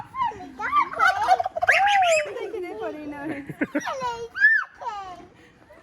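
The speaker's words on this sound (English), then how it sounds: "you feeding the turkeys" Turkeys at a heavy horse centre and activity park gobble loudly while being fed, their warbling calls coming close and in bursts, with people and children talking and laughing among them.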